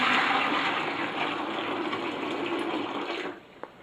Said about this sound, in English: pour some of the water in first